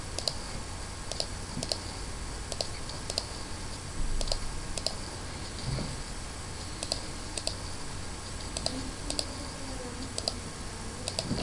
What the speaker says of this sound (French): Je clique sur chaque vide.